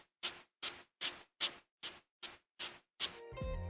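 A toothbrush scraped along trousers mimics Minecraft footsteps on grass blocks: eight evenly spaced, crisp brushing scuffs in a steady walking rhythm, close and clear, before a faint trailing tone at the end.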